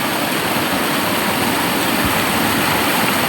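Strong river current rushing, a loud continuous broadband roar of flowing water, close and steady with no breaks.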